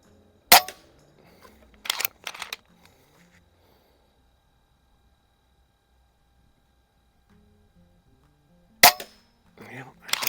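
A .22 caliber Umarex Zelos PCP bullpup air rifle fires at an outdoor range, sharp sudden cracks in two bursts separated by a long quiet gap, with faint talk and a few soft clicks between.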